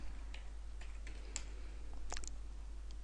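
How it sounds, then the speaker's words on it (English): Computer keyboard being typed on for a search, with a few sparse, light key clicks over a steady low hum, close and quiet with no talk. "if we go for a search, one word I often just type in is premium"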